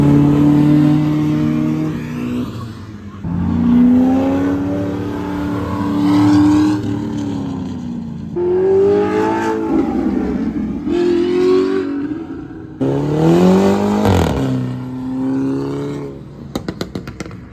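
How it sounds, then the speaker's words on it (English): Several cars, a Mini Cooper among them, rev and accelerate around a race track, engines rising and falling in pitch as they pass at moderate distance, with overlapping sweeps and no talk. "Damn, that Mini Cooper sounds good."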